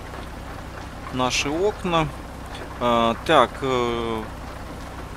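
Rain in American Truck Simulator falls on a Mack Superliner truck cab as a steady, soft hiss beneath someone speaking in bursts.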